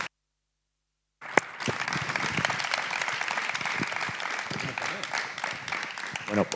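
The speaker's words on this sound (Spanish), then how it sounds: "Vamos a darle un aplauso" A live audience at a comics book talk bursts into applause after a moment of silence, starting with a sharp clap, then a sustained, even wash of clapping from a full room.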